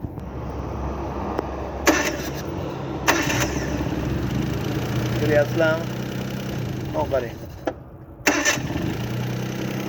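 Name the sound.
Daewoo Matiz car engine starting and running after carburetor repair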